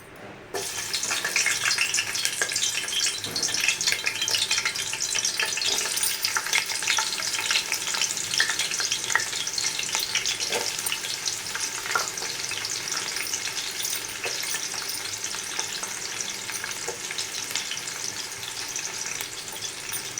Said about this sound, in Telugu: ఫస్ట్ ఆనియన్స్ అయితే కొంచెం ఫ్రై చేద్దాం.